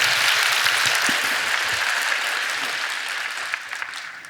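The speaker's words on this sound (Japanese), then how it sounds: "こっちも一応拍手をお願いします。" A hall audience claps at a Japanese programming contest judging session, dense steady applause that holds strong and tapers slightly toward the end, with no speech over it.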